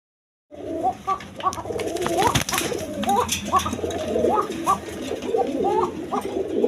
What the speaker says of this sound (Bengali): দর্শকবৃন্দ দেখেন এইখানে এক পেয়ার কবুতর আছে